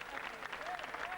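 Studio audience applauding on a 1990 French TV quiz show, a short, faint spell of clapping with a voice faintly present.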